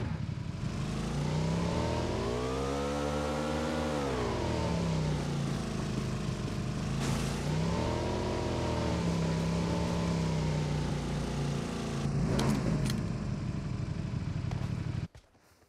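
A car is driven in the Kong video game, its engine droning steadily with swelling revs and pitch sweeps up and down, fairly close and continuous before cutting off abruptly at the end.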